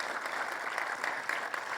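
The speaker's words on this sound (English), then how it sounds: "One more round of applause" Steady audience applause at a live event on Vermont housing, a fairly faint, even patter of many hands clapping.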